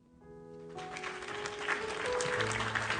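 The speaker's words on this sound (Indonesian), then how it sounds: "Tepuk tangan dulu." Applause during a TikTok live session builds from near silence into a steady wash of clapping that grows louder and continues, with a faint tonal hum underneath.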